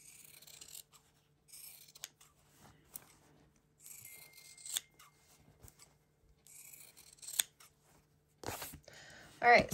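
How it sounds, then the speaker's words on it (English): Quiet, intermittent snips and crisp cuts of scissors through cloth, coming in short clusters with pauses between, close by. "And then I take my scissors and I just"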